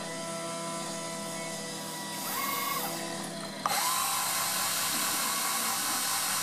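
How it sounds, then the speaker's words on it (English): Steady roar of heavy road-building machinery outside a house, with a rising mechanical whine midway and a sudden louder burst of grinding noise near the end. "I've got some road builders working outside the house."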